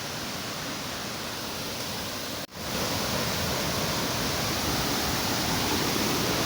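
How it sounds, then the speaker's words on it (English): Mahoma waterfall and its river pour out a dense, steady roar of water, loud and near. There is a brief dropout partway through and no voices. "I hope you hear the sound of the river"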